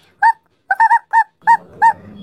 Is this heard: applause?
no